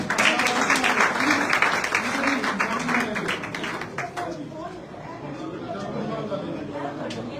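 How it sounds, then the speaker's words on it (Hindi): Crowd applause at a political gathering, many hands clapping hard at first over lively chatter, then thinning and fading as voices take over and scattered claps trail off. "तालियां बंद ना करो भाई।"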